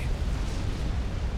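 Twin thermonuclear explosions in the real-time strategy game Supreme Commander: Forged Alliance, a sustained, loud, deep rumbling roar that fills the whole stretch without a break, heard alone with no talk.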